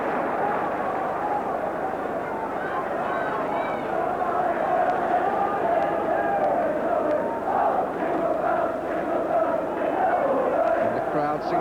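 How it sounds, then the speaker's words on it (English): Football crowd at a Derby County versus Liverpool match, a dense, loud, sustained roar of massed voices singing Jingle Bells in a steady chant throughout, with no clear gaps. "the crowd singing jingle bells just to add to the atmosphere"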